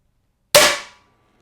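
Ravin R500 crossbow firing a single shot: one sharp, loud snap with an instant attack and a short ringing decay, alone after silence.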